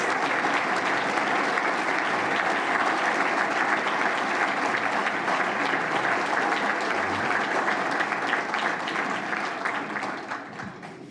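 Sustained applause from a large audience at a breakfast gala honoring faculty, staff, mentors, students and alumni, a dense steady roar of clapping lasting about ten seconds before gradually tapering off at the end.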